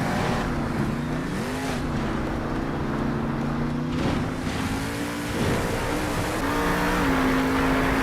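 A monster truck engine in Monster Jam Steel Titans 2 revs loudly and continuously, its pitch climbing and dipping as the throttle rises and falls during a freestyle run.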